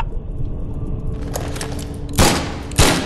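Two loud, sharp gunshots from The Sinking City on PS4, about half a second apart, cracking out over a low, rumbling in-game background.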